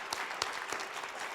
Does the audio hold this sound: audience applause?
yes